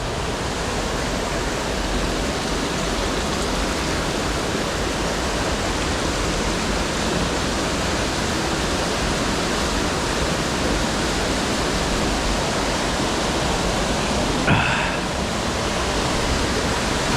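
An underground river flows through a cave, a loud, dense, continuous rush of water that stays even throughout, with a brief splash or knock near the end.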